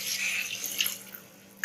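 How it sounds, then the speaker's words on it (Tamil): Water runs into a pot of chicken curry as a steady, hissing splash that fades out over about a second, ending with a sharp clunk. "இப்போ வந்து நான் இதில் தண்ணி சேர்க்க போகிறேன்."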